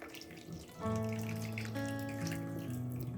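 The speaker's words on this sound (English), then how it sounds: "So I'll just go ahead and I drain this water" Water from soaked rice being drained, likely poured off into a sink, gives a steady gurgling, splashing flow that starts abruptly and runs continuously, close and fairly loud.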